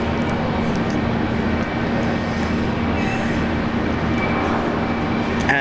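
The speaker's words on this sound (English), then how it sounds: "E190s off to Adelaide is Qantas 1929." QantasLink Embraer E190 jet departing Brisbane Airport for Adelaide, a constant heavy rumbling engine roar that stays steady and fairly loud throughout, with no voices.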